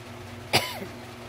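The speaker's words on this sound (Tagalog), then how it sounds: "May ubo ko guys" A single short cough indoors in a bedroom, one sharp close burst followed by quiet.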